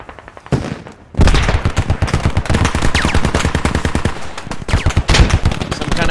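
Heavy gunfire in a military video game, rapid bursts of machine-gun fire crackling loud and close after a brief quieter opening, sustained rattling volleys with sharp individual shots throughout.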